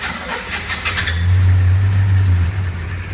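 A cold 1958 Studebaker Golden Hawk engine runs close by, its low rumble swelling into a sustained rev and then easing back toward idle.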